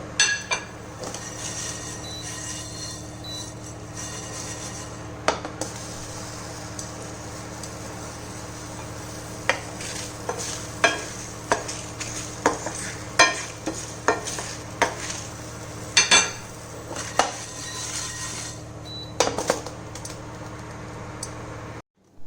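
A Mangalore-style spice mixture for prawn ghee roast is dry-roasted in a pan, with repeated clicking scrapes of a spatula stirring against the metal over a faint steady hum, the strokes bunching into busier bursts midway.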